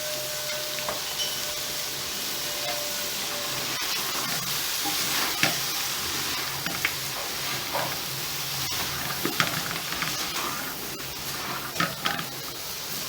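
Cauliflower and mutton frying in a pan with cumin powder and carom seeds, a steady loud sizzle with occasional stirring scrapes and clinks running throughout.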